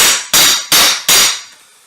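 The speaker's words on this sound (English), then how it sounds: "And then I can just hammer it down for this groove to go in." Three sharp hammer blows strike a floor board to seat it into its groove, evenly spaced and loud, each ringing off briefly before the next.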